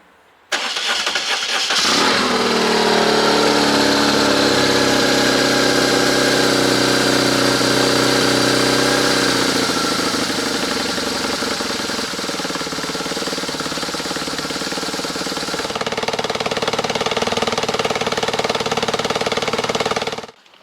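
A BMW R1100RT motorcycle engine cranks and fires up, then settles into a loud, steady, close idle with a throbbing mechanical rumble, shifting slightly in tone partway through before cutting off.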